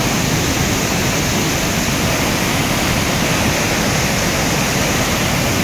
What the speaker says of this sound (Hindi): यहाँ पे आप देख रहे हैं काफ़ी चलचल चलचल करती हुई झरना